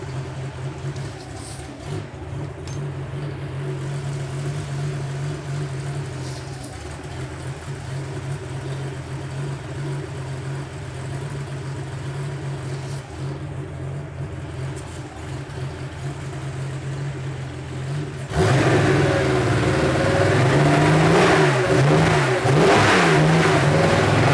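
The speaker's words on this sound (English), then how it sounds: "I wanted to warm the engine up" A Porsche 911 Carrera 3.2L engine idles steadily with a low hum while warming up, then revs up sharply near the end, the pitch rising and falling in loud bursts.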